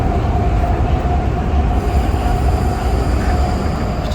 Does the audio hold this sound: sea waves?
no